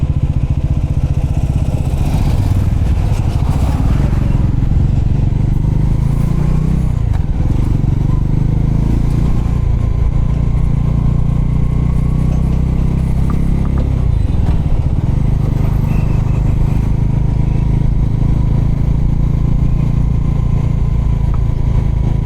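Motorcycle with a saffron flag riding on the road from Mumbai to Raigad fort, a loud steady engine drone with rumbling low tones and wind throughout, close and continuous with no talk.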